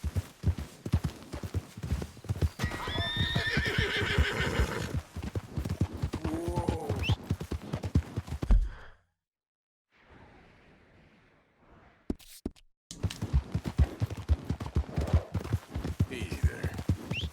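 Horse hooves clip-clop steadily with a whinny in Red Dead Redemption II, set amid game sounds, then a brief near-silent gap before the hoofbeats and ambience resume.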